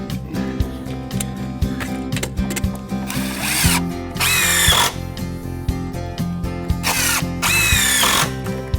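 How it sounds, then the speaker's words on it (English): A power drill drives screws into a wooden deck box beam, its motor whirring steadily and loudly up close with two sharper bursts of higher-pitched spinning as the screws bite, and no talk over it. "when they're both level, I'll throw the other screws in"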